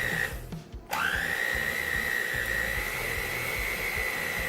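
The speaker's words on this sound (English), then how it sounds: "we got this ball of dough going on here, and we're just gonna keep mixing it up" An electric stand mixer kneads a ball of dough with a steady, loud motor whine that settles into a constant hum after a brief dip near the start, with a rhythmic low knocking from the dough underneath.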